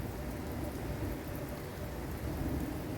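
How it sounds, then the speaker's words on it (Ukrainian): Continuous light rain hissing and pattering steadily among pine trees in Canada, with a low rumbling undertone, evenly loud throughout and no voices. "Така гарна погода, дощик іде"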